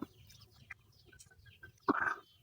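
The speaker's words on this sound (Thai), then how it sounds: "เสียงไก่ดังครับ" Chickens cluck close by on a rural farmstead, a few soft clucks scattered through the quiet before one louder burst of clucking near the end.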